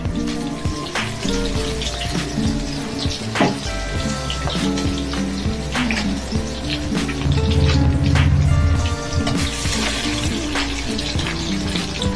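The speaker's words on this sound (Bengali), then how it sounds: "এবারে মাছটা কড়া করে ভাজবো" Fish pieces frying crisp in hot oil in a kadai, a loud continuous sizzle with popping crackles that swells in the middle, close up with no talk.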